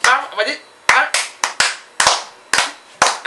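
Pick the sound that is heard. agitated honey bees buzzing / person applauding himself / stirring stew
person applauding himself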